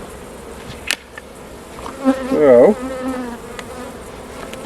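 Honey bees buzz around an open hive during a November inspection, a constant low drone with a louder swell as bees fly close, plus a brief spoken word and light clicks.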